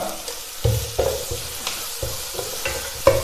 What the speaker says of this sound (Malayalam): പച്ചമുളകും ചേർത്ത് നന്നായിട്ടൊന്ന് വഴട്ടിയെടുക്കാം